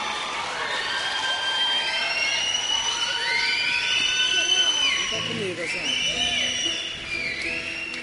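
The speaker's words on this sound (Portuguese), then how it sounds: "Vamos aplaudir o Luciano Alves Júnior?" A church congregation at a baptism service cheers and calls out, with many overlapping high voices whooping over a dense crowd roar that holds steady and loud before thinning near the end.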